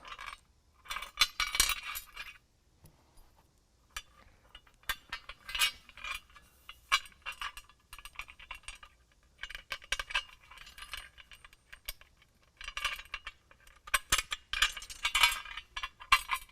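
Small metal parts clink and rattle as a bolt and retaining washer come off a BAK Revolver X2 tonneau cover on a 2017 Nissan Titan, light scattered taps and jingles in bursts at close range.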